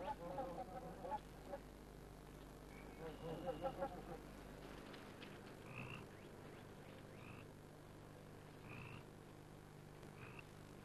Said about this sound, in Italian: l'ideale per le oche canadesi che scivolano sulle acque di laghi e stagni.